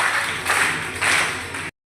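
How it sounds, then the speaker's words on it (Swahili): Crowd applause with strong rhythmic clapping at a community event in Mtongani where school supplies are handed out to vulnerable children. It is loud and close, with two or three surging beats in a short burst that stops abruptly. "Naomba tujipigie makofi matatu ya nguvu sana."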